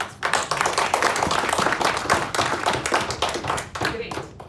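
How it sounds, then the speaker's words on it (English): A room audience claps in a sustained, dense patter of many hands for about four seconds, fairly close and steady before tapering off at the end. "Let's have a round of applause for"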